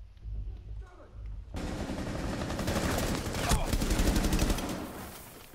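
Rapid gunfire in the Rainbow Six Siege video game, a dense burst of automatic shots starting abruptly after a quiet moment and rattling on continuously at moderate loudness.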